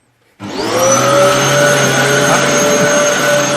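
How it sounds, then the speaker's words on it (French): A vacuum cleaner switches on abruptly and runs with a loud, steady whine and roar, close to the microphone and alone. "personne n'aime vraiment passer l'aspirateur"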